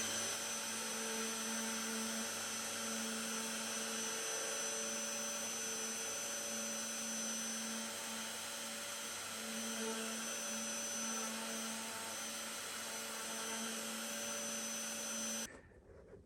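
A router cuts the electronics cavity in a guitar body, a steady high whining motor drone held close and constant for around fifteen seconds before it cuts off abruptly.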